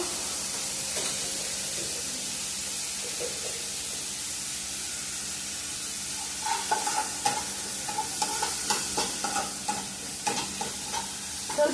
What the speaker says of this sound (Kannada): ಸ್ವಲ್ಪ ಫ್ರೈ ಆದರೆ ಸಾಕು.